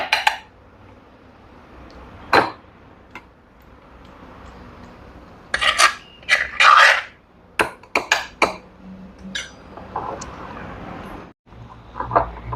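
A utensil scrapes ambarella and mango chutney from the sides of a jar, giving scattered clinks and brief scrapes of metal on glass at close range, separated by quiet pauses.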